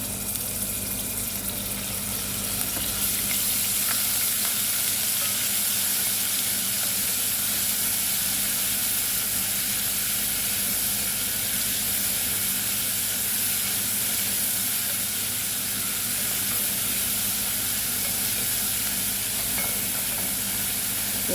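Ginger garlic paste frying in a pan while a chicken dish is cooked, giving a soft, continuous sizzle with a steamy hiss that stays even and fairly quiet throughout.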